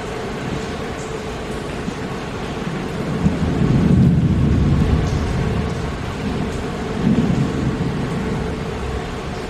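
Heavy pouring rain during a summer thunderstorm with flooding in Mineola, New York, a steady dense roar with low rolling thunder swelling twice in the distance.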